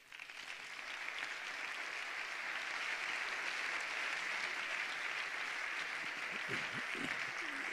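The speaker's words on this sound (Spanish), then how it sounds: "Un fuerte aplauso para Jonathan Lastra." An audience at a Caja Rural Seguros RGA presentation applauds Jonathan Lastra, a steady, even wash of clapping from many hands that rises quickly and holds, faint and somewhat distant.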